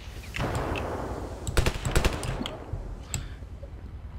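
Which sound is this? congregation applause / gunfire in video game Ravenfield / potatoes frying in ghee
gunfire in video game Ravenfield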